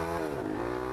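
A Honda CB1000 motorcycle fitted with a straight-through exhaust revs close by, a loud rough engine roar with the pitch climbing and holding steady for a moment.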